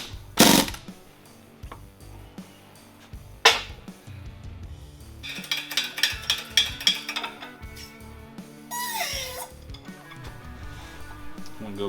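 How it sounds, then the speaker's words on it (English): A pneumatic impact gun tightening bolts on a car differential in a race shop, giving several short rattling bursts between metallic clinks and tool handling, close and without talk. "you grab the big gun and tighten them up"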